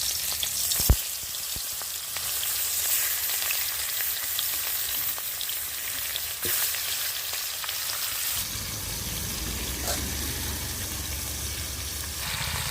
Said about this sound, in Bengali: মাছগুলো কড়াইতে দিয়ে দিচ্ছি ভাজার জন্য